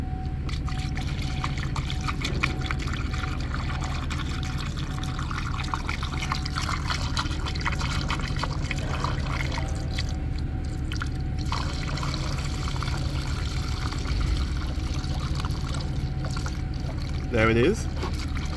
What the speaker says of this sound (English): we're going to fill the cooling system until the cooling bottle go all the way up